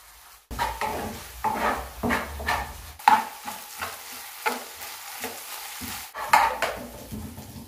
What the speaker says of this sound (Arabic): هادي هي لاباص اللي خصني نوصل ليها أنا في التشحيرة ديال البصلة، يعني داكشي يولي كراميليزي